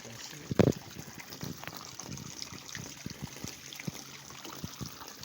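Water trickling and flowing while the water in a catfish pond tank is being changed, a steady faint wash with a brief louder splash near the start.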